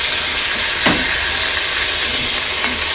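Potatoes fry in hot oil with a loud, steady sizzling hiss close by, broken by a couple of brief bubbling swells.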